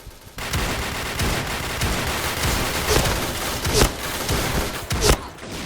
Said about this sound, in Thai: ยิงเพลินเลยบอกให้กระสุนเยอะ อันนี้ลูกซองผมมันต้องไปยิงใกล้ๆอ่ะครับ